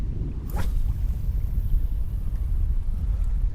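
Strong wind by the Dnipro river in Kyiv during autumn fishing buffets the microphone with a continuous low rumbling roar, steady and loud throughout with a brief higher swish near the start.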